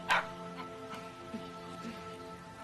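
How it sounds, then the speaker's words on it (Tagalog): A dog gives one short, sharp yelp-like bark up close, followed by a few faint whimpers and soft cries over a quiet background hum. "Ganmo, ang hirap talaga pigilin ng aso na magtatakbo, no, Ma?"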